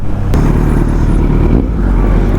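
A Kawasaki Z900 motorcycle engine roars loud and close during a wheelie, a dense, steady rumbling drone with no speech over it.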